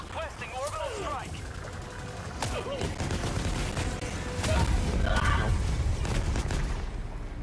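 Heavy bursts of gunfire and explosions in Helldivers 2 during a space station defense, dense rattling volleys with loud booms rising toward the end, while players talk over the din.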